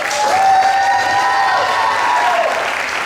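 A large tournament crowd applauds and cheers in a dense, continuous wash of clapping, with faint tonal calls riding over it and no clear speech.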